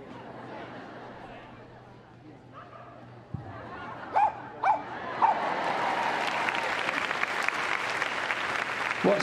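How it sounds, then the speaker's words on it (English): A small dog at Crufts 2014's Superstar Dogs winner presentation gives a few short, sharp barks midway, set against steady applause and crowd noise in a large indoor arena. "Can you give us a bit of a bark?"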